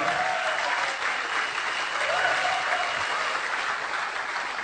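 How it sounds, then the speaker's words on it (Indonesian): A crowd applauds steadily at a motivational event, a dense wash of clapping that holds at even volume from start to finish. "cinta yaitu Crown Ambassador Bapak Adi Mabul tepuk tangan untuk Bapak dan istri."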